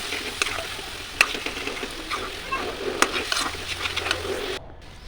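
Spices and salt mixed with a little water are stirred in a pan after onion and garlic, a crackling sizzle punctuated by several sharp metallic clinks of a spoon on the pan, close and continuous with no talk, ending abruptly.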